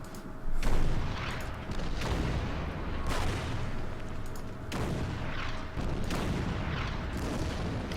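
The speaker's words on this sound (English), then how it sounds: "Okay, artillery." Artillery firing in the strategy video game Order of Battle: Endsieg, set in the Ardennes offensive, four heavy booming blasts at regular intervals, each rolling out into a rumbling tail.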